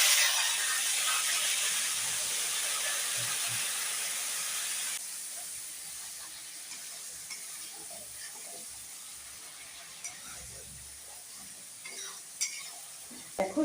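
Spice paste for aloo fulkopi dropped into hot oil in a pan sizzles loudly and steadily, then settles into a quieter crackle with occasional soft stirring clinks.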